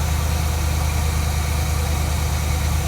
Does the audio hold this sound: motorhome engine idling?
yes